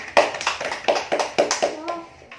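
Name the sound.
classroom applause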